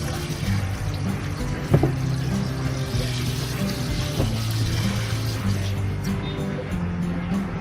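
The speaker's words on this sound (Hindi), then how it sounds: "ये आपको आवाज आ रही होगी, अब ये जो है पानी से गिरने की, ये अब हमारा शाम में टंकियां भरने का टाइम है।" Water falls steadily as rooftop tanks are filled in the evening, a continuous moderately loud splashing rush with a couple of brief knocks, alone without talk.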